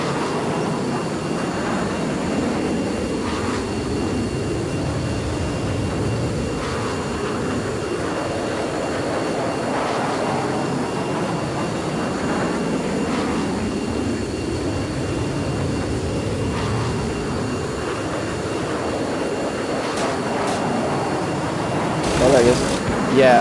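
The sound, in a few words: jet plane flying in the video game Dreams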